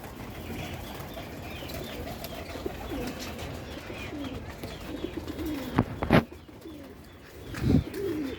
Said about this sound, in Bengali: অল্প কটা কবুতর আছে